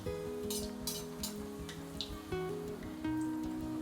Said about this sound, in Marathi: आपल्याला तळून घ्यायचं आहे